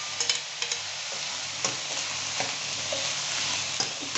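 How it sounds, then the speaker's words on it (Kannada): Cooked field beans (avarekalu) mashed and stirred in a pan for a usli dish, giving soft intermittent scraping and squishing taps over a faint sizzle, close and fairly quiet. "ಬೆಂದಿರೋ ಅವರೆಕಾಳನ್ನ ಬಸ್ಕೊತಾ ಇದ್ದೀನಿ."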